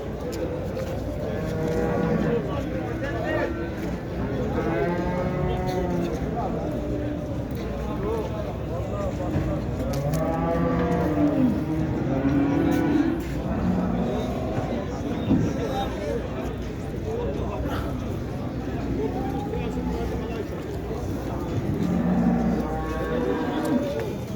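Cattle lowing repeatedly at a busy Turkish livestock market in Şarkışla, several moos overlapping near and far amid steady crowd chatter and people talking throughout.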